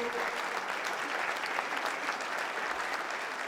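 A church congregation claps continuously throughout, a steady wash of applause at moderate volume with no pauses.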